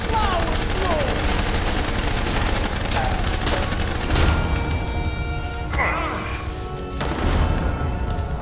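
Video-game gunfire crackles in dense bursts and scattered shots through the whole stretch, mixed with mechanical clanks and game voice chatter.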